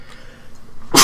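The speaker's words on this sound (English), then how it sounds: "Excuse me, sorry, there's a sneeze." A single sharp human sneeze bursts out loud and close at the very end, after a stretch of quiet, low background sound.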